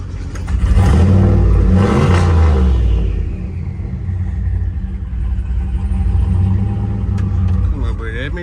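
A turbocharged truck engine with a freshly rebuilt transmission runs loudly and close, a steady deep rumble with a rising rev early on, then a sustained idle-like drone.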